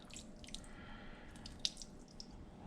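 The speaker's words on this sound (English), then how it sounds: "You just want to put a little bit of water on top of the sugar" A little water poured onto sugar in a pot for pear preserves, a few faint drips and splashes, quiet and sparse, with no talking.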